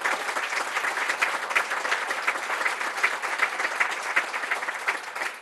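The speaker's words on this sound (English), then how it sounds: "Would you give them a round of applause?" An audience at a poetry reading in a bookstore applauds steadily, the dense even clapping of a sizeable crowd sustained for the whole stretch, with no speech over it.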